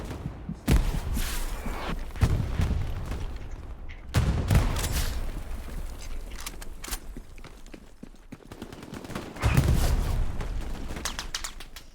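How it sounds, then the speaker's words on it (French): A battle in the Hell Let Loose video game with a grenade and gunfire: loud sharp bangs and bursts of shots, some close and heavy, over a continuous rumble of combat noise. "Attention grenade les gars, grenade."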